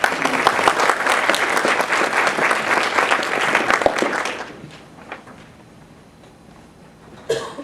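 An audience at a University of Virginia lecture on medical confidentiality applauds to welcome speaker Anita Allen, loud dense clapping for about four seconds that fades into quiet room noise, with a brief thump near the end.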